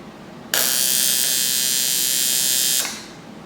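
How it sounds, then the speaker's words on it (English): A single tack weld on intercooler piping for a turbo Integra, done without filler rod: one steady, bright electric buzz switches on abruptly, holds for a little over two seconds and cuts off, close up and unaccompanied by talk. "I'm gonna do 4 tacks, 1 on each corner right there"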